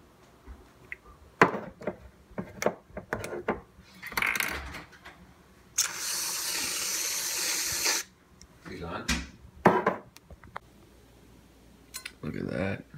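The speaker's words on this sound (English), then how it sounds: "I'm gonna add on some fat-free whipped cream" A can of fat-free whipped cream sprays onto waffles in one steady hissing burst of about two seconds, set between light kitchen clatter and handling noises.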